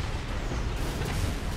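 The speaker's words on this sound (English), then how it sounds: "What's this explosion?" Explosions in the mech combat game Armored Core 6, heard as a loud, dense, continuous roar of blasts and rumbling with no talking.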